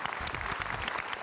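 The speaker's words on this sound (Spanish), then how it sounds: "Un aplauso para Itziar y Leire." A television studio audience applauds for two guests, a dense, even wash of many hands clapping at once, loud and continuous over a brief moment with no voices.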